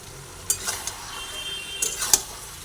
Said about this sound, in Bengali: একসঙ্গে আবার একটু নাড়াচাড়া করে নিচ্ছি